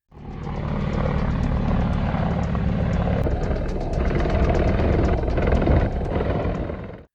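Mi-28 attack helicopter in flight, caught from a nearby FPV drone: a loud, steady rotor and turbine roar with rhythmic blade chop, continuous and close throughout with no talk.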